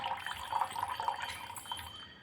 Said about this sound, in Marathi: असं पाणी अज्जात काढायचं